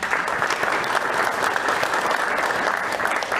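Audience at a press event announcing a women's soccer club's move to Tacoma applauds: loud, dense, continuous clapping from a crowd filling the whole stretch, with no speech on top.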